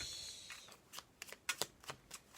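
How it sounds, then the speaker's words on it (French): Tarot cards are shuffled close up in quiet surroundings, a run of crisp riffling bursts and soft slaps that come in uneven clusters, each brief and sharp. "on va tirer 5 cartes, on les mélange"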